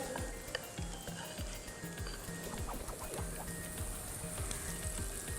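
Pakora batter with finely chopped onion drops into hot oil in a kadhai for karhi, spaced apart, and fries with a dense, steady sizzle and bubbling crackle throughout, with soft spoon clinks and no talk.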